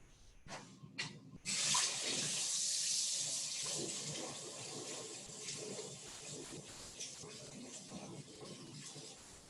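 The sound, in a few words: washing hands under running tap water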